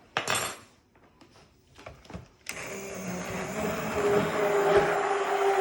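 After a few sharp handling clicks and knocks, a stick blender whirs steadily as it mixes a homemade soap batch of oils and lye with clay and color, its motor drone loud and continuous to the end.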